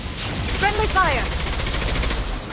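Automatic gunfire from the video game Mass Effect rattles steadily in a dense, continuous stream, with brief voice fragments cutting through the combat.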